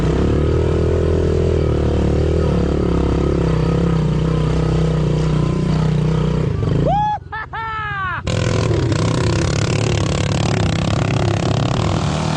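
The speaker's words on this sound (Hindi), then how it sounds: "ये फर्क होता है एक प्रॉपर डर्ट बाइक में और एक नॉर्मल सेमी डर्ट बाइक में।" A semi dirt bike engine roaring loud and close while climbing a forest slope, holding a steady drone that briefly cuts out into a few rising revs before resuming.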